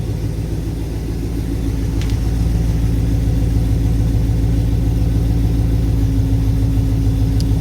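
A Range Rover Classic 3.9 V8 fitted with Hedman tubular exhaust manifolds runs in a cold workshop, a loud, steady, deep exhaust rumble droning without a break.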